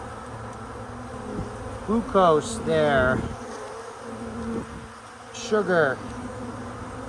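Honey bees buzz as a steady, even hum around a newly set-up hive, while someone talks close by at intervals over the drone.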